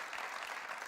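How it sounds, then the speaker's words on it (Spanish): A church congregation claps in praise during a Sunday worship service, a steady, dense patter of hands filling the room with no break, moderately loud and close. "Denle un aplauso al Señor, hermanos."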